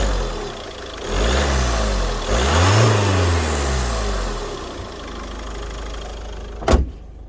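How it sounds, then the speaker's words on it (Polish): A Peugeot 308 SW 1.5 BlueHDI diesel engine clattering close by, rising and falling in a brief rev before settling to a steady idle, ending with a sharp thud like a door closing. "zwykły klekot diesla, który jest oczywiście słyszalny również w kabinie"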